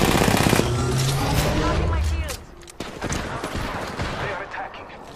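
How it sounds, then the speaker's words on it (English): Rapid automatic gunfire in a first-person shooter video game, dense bursts of shots at close range that thin out into scattered sporadic fire, with a player's voice talking over it. "Getting shot at."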